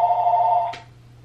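A home telephone rings indoors, one loud steady electronic ring tone that holds for most of a second and then cuts off with a brief click, leaving a low background hum.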